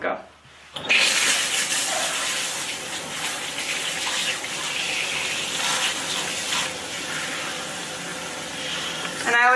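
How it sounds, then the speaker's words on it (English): Warm tap water gushes steadily and loudly for several seconds as it rinses permed hair over a salon sink. The flow starts abruptly after a brief pause and keeps a constant splashing rush. "start to rinse with warm water."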